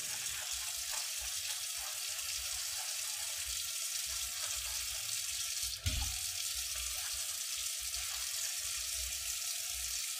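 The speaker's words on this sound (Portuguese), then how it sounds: "Coloquei a cafeteira de cabeça para baixo perto da pia e lavei o bocal de preparo." Tap water runs steadily at a kitchen sink while the brew nozzle of an upturned Mondial coffee maker is washed, with one soft thump midway and no talking.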